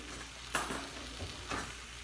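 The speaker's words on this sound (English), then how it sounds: "You just add the pork. We're gonna turn frequently until it's nice and brown color." Pork frying in oil in a pan for pork piccata, a steady close sizzle with a couple of louder bursts as the meat is turned, no talking.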